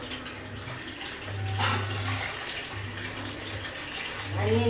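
Water runs from a tap while an item is washed under it, a steady rushing stream with splashy bursts, close and moderately loud, with a low hum underneath.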